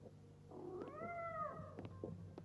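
A cat in Life is Strange Double Exposure gives one long, drawn-out meow, clear and fairly close over a quiet indoor background, with no talking.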